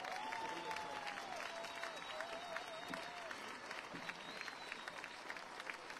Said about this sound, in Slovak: Môžete veľký potlesk pre ňoho.